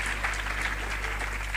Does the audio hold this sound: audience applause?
yes